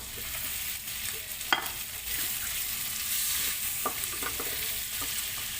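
Potatoes fry in melted butter in a pan, a steady close sizzle with occasional crackles and a few stirring clicks, no voices.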